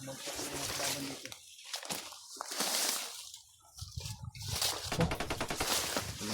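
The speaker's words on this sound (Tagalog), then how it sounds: "Mga putukan tayo narinig ko." Bursts of gunfire crackle through the scene, including a rapid volley of repeated shots near the end, mixed with voices and outdoor noise.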